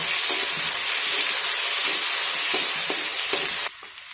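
Coarsely crushed green chilies with garlic and cumin fry in a pan, a loud close constant sizzle with faint stirring taps, dropping abruptly quieter just before the end.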